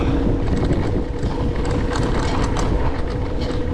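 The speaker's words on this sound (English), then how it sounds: "She is windy. She is windy. Blustery." Strong, gusty wind on the Auckland waterfront roars and buffets the microphone continuously, with low rumbling turbulence and no voices.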